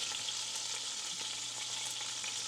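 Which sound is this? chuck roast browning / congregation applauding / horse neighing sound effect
chuck roast browning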